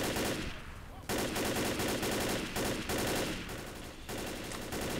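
Rapid gunfire from Left 4 Dead, bursts of dense shots in quick succession broken by short gaps, loud and close.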